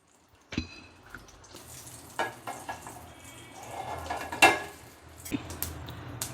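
Mustard seeds and urad dal frying in hot oil in a pan, a soft continuous sizzle broken by sharp pops and spatters, with one louder clatter of a utensil, close by.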